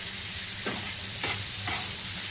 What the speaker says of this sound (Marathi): कांदा टाकल्यावरती आपण जरा तेलामध्ये परतून घ्यायचा आहे।